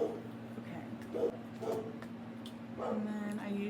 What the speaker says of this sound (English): It's a dog outside, that's why.